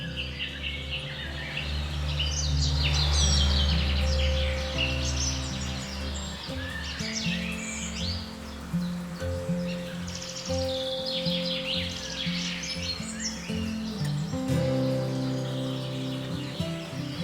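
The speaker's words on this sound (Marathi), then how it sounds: "सकाळचे सात वाजलेत आणि पक्ष्यांच्या आवाजानं मला जाग आली आहे" Morning birds chirping and calling in bursts in a forest, against a steady low background hum, moderately loud, with no talking.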